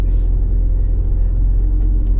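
A car engine idles steadily after a repair, a close, continuous low rumble that holds even throughout with no talking.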